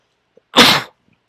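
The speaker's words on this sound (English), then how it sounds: "I do apologize for that sneeze." A single loud, sharp sneeze up close, bursting out abruptly amid near silence.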